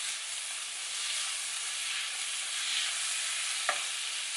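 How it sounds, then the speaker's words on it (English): Frozen green peas frying in hot oil, a steady broadband hiss of sizzling at moderate volume with one brief sharp clack near the end and no talking. "I'm just going to add some green peas, and they were frozen, so it won't take a lot of time to cook it."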